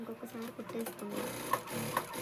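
A sewing machine stitches a Punjabi dress in quick bursts of rapid mechanical clatter close by, pausing between runs while someone talks over it.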